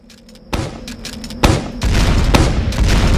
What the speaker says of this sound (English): The grenade launcher is a powerful and reliable primary.